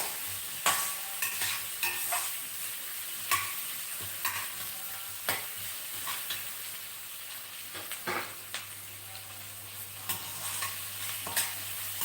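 Cinnamon and other whole spices such as cardamom fry in a pan for a cauliflower curry, a quiet steady sizzle with occasional sharp stirring clicks and scrapes, no talking.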